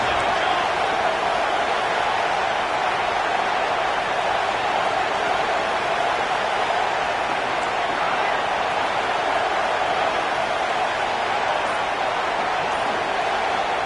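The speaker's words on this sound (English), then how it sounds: "And here comes the noise. This crowd is trying to inspire this defense" A steady, dense roar from a large stadium crowd at a USC vs Nebraska football game, loud and continuous throughout with no pauses or distinct voices.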